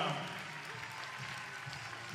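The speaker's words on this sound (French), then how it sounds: "Vos applaudissements à nouveau pour le cavalier irlandais, Dennis Lynch." At an international show jumping event in Bordeaux, a crowd applauds a rider at the prize ceremony, a quiet, distant, steady patter of clapping with a voice faintly audible underneath.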